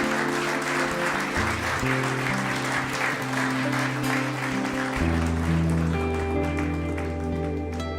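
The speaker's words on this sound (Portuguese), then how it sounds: "Dê um aplauso ao Senhor" Church congregation applauding in worship during a celebration service, a sustained wash of clapping heard under sustained music with organ-like held notes.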